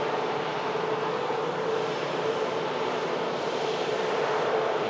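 A Boeing 767 jet takes off from Manchester Airport, a steady, loud engine roar that holds evenly throughout with no voices over it.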